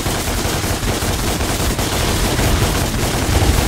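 Rapid gunfire in Devil May Cry crackles in a dense, continuous burst of loud shots with no pause, like a machine gun fusillade, dominating throughout.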